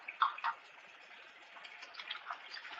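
Hot water runs from a kitchen tap, a soft, steady hiss and splash with a couple of brief louder knocks near the start, heard close and quiet.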